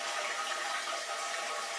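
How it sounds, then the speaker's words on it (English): Newly installed toilet refilling after a full flush, a steady close hiss of water running into the tank, unbroken and fairly quiet throughout. "did a full flush"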